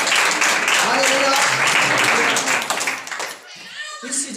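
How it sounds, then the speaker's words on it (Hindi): A church congregation at a Hindi-language Christian sermon on family blessing claps together in a steady burst of applause that fills most of the moment, with voices mixed in, then the clapping thins out toward the end. "ताली बजाएं।"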